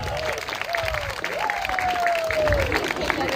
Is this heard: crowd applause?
yes